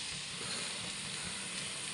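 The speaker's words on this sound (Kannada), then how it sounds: "ಆ ಎಣ್ಣೆಯಲ್ಲಿ ಇದೆ ಫ್ರೈ ಆಗಬೇಕು ಚೆನ್ನಾಗಿ." Ridge gourd pieces fry in hot oil, giving a steady, fairly quiet broadband sizzle that holds evenly throughout with no voices.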